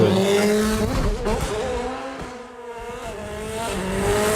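A race car drifting through a gymkhana run, its engine revving hard with wavering pitch while tires squeal and skid, the roar briefly dipping before building again.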